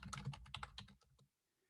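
Rapid typing on a computer keyboard, a close, dense run of plastic key clicks that stops abruptly, followed by near silence.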